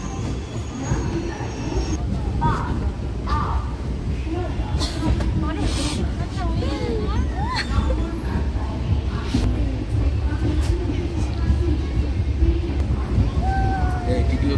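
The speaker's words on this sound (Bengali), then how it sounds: "8:45-এ নৈহাটি থেকে ট্রেন ছেড়ে দিল।" A train pulls out of Naihati station with a continuous heavy rolling rumble, buffeted by wind noise and marked by a few faint squeals, while people talk nearby.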